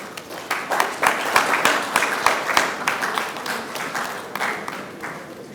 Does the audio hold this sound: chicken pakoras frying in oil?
no